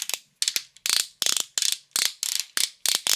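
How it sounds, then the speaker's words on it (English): Ratcheting knee joints on a BotCon 2010 Clench Transformers action figure, close up: a series of sharp plastic clicking bursts in an uneven rhythm, each a quick run of clicks, with silence between them. "plenty of ratcheting joints in the knee"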